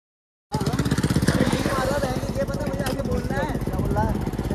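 A motorbike approaches, its engine a loud, pulsing putter that starts abruptly and carries on with shifting pitch while voices talk over it.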